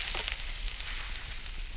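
Chopped meat sizzling in a pan in the Cucina Stellata cooking video game, a steady hissing fry at a moderate level with a few faint clicks on top.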